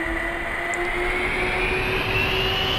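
A Transavia airliner starts its engines in Microsoft Flight Simulator, giving a continuous jet whine and rumble that rises slowly in pitch, steady and fairly loud with no voices.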